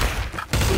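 Gunfire in the video game Trouble in Terrorist Town, a loud burst of shots filling the opening half second, a brief lull, then another dense burst at the end, with no talk over it.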